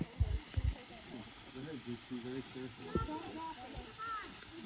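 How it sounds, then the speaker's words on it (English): A waterfall on a park trail gives a steady, faint rushing wash beneath people talking nearby, with a few footsteps or thumps at the start. "We made it to the waterfall."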